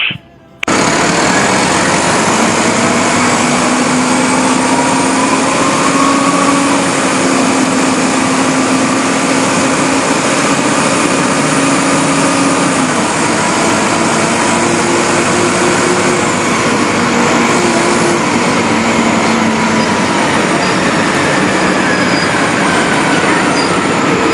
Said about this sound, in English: these signify the use of the Detroit Diesel Series 50 engine, which sounds like this.